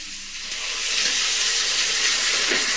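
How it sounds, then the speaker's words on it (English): Water pours steadily into a cooking pot in a continuous hissing rush, close and fairly loud, with no voices. "now we put water"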